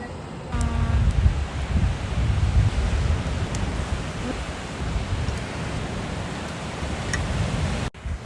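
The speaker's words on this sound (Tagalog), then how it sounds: "Napakaganda ng alon talaga." Ocean waves roll onto a sandbar beach in steady wind, a continuous broadband wash of surf with gusty low rumble that holds fairly loud and even throughout, with no speech over it.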